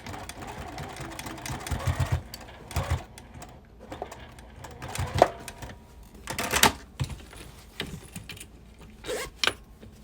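Bursts of mechanical whirring and clicking from a sewing machine stitching a quilted bag stop and start in short runs, with quiet handling noises in between.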